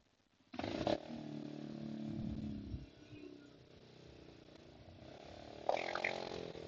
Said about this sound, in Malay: Ada motor belakang.